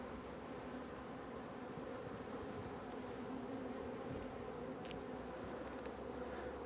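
Honey bees swarming around an open beehive during a hive inspection, a steady dense buzzing hum close to the microphone, continuous and even, with a couple of brief faint clicks.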